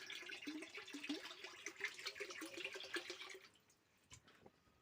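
Liquid fertilizer solution pours steadily into a water tank with a splashing, trickling sound for about three seconds, then slows to scattered drips and sputters; no one speaks.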